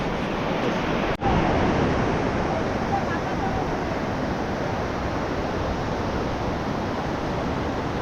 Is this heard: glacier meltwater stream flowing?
yes